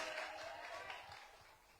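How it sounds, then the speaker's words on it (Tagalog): Applause from a church congregation during a Filipino worship service, a steady wash of many hands clapping together, fairly faint and even throughout with no voices standing out. "Ayan lang ba ang palakpak ng na-bless?"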